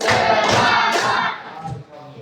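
A high school class claps together in an Islamic studies lesson, a dense burst of many hands that stays loud, then eases off near the end.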